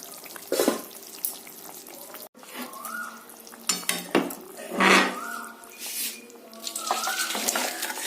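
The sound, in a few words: pouring hilsa fish curry out of the pot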